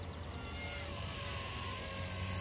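A Blade 230s Smart RC micro helicopter flies nearby with a steady high-pitched rotor whine and low motor hum, constant and moderately loud.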